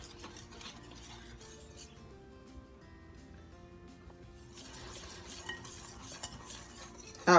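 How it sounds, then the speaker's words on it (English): Self-rising flour being whisked into tres leches cake batter in a bowl: continuous scraping and light clinking of the whisk against the bowl, growing busier and louder toward the end, close by with no talking. "we're going to add this in a little at a time. And whisk until it's nice and well incorporated"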